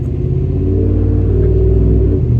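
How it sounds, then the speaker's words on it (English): A 2018 Ram 1500 pickup with a muffler delete running close by, giving a loud, steady, deep exhaust rumble that holds evenly throughout. "Definitely, it's a muffler delete, but it's not nearly what I thought it was going to be."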